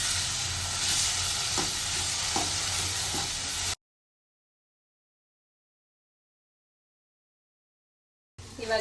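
Onions and tomato fry in a pan for pav bhaji, a steady close sizzle with faint stirring scrapes for a few seconds, then a long silence before the sizzle briefly returns.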